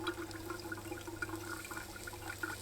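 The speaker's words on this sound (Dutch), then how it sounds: "En vul deze daarna weer om deze weer aan de kook te brengen." Water running into a small cooking pot being refilled outdoors at a bushcraft campfire for boiling acorns, a steady close pouring and trickling wash with faint clinks, no voices.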